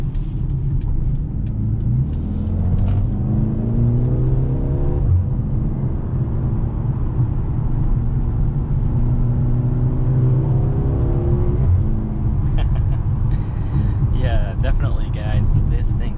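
2021 Mercedes-Benz GLA 35 SUV in Sport Plus mode on the highway, a steady cabin engine hum that rises in pitch through gears with a brief shift dip, under continuous talking from the driver.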